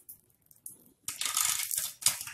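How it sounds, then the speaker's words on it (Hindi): Muffled crackling of popcorn rattles inside a closed pressure cooker on high flame, sparse at first and then swelling into a dense burst of popping and rattling. "आप पॉपकॉर्न फूटने की आवाज सुन सकते हैं कुकर के अंदर"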